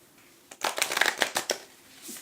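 Tarot cards are shuffled in a run of quick, crisp riffling bursts close to the microphone, a flurry of papery flicks lasting about a second before it trails off, with no talking.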